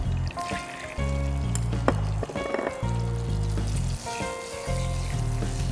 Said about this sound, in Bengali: ঘিতে সেমাইটা খুব ভালো করে ভেজে নেব